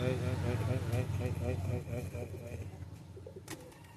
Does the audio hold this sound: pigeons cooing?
yes